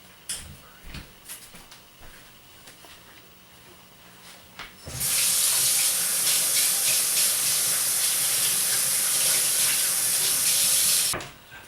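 Kitchen sink tap runs for handwashing, starting abruptly after a few quiet seconds of small clicks and then pouring as a loud steady hiss of water before cutting off sharply.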